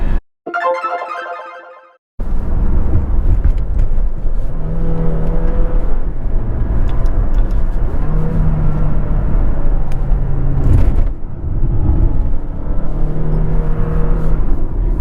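A 2024 Dodge Hornet R/T plug-in hybrid driving on the road, a loud steady engine and road rumble with the drive note rising and falling, after a brief chime-like tone at the very start; no talking.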